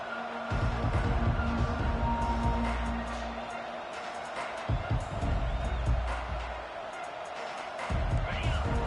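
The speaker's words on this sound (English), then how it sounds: "this crowd is fired up. Listen to this noise here." A large stadium crowd in a college football video game roars steadily throughout, with low booming music or announcer tones swelling beneath the noise.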